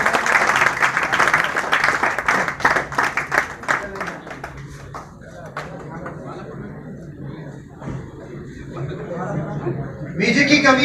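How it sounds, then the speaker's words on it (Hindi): A crowd gives a guest loud applause, dense clapping that thins into scattered claps and murmuring chatter, followed by a voice speaking toward the end. "एक जोरदार तालियां सर के लिए"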